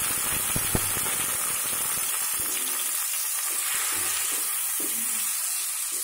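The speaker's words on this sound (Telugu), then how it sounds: "2 స్పూన్స్ ఆయిల్ వేసి 3 టమాటా ముక్కలు ఇందులో వేసుకోవాలి" Three tomato pieces frying in two spoons of oil in a pan give a continuous, close hissing sizzle with faint stirring scrapes, with no talk.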